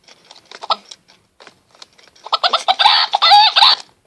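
Backyard chickens cluck close by, starting with scattered soft clucks and building into a louder, continuous run of rising, song-like cackling.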